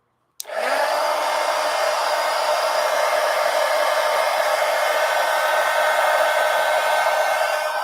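A hair dryer switches on abruptly and blows in a steady, loud whooshing hum, drying matte medium on napkin journal pages in a Traveler's Notebook; no one speaks.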